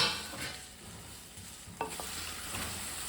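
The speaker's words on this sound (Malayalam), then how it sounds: "വെളിച്ചെണ്ണ ചൂടാവുമ്പോൾ ഞാനൊരു 1/4 കിലോ വെണ്ടയ്ക്ക വട്ടത്തിൽ നുറുക്കിയതിനെ നന്നായിട്ട്" A quarter kilo of round-sliced okra sautés in hot coconut oil in a pan, giving a steady soft sizzle with a few brief stirring scrapes, quiet and close with no talk.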